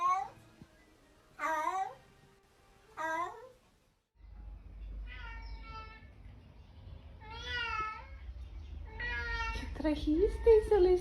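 Several cats meow in short, separate calls, a few clear distinct meows followed by softer, rising cries against a low background rumble, with a brief chirpy vocal at the end.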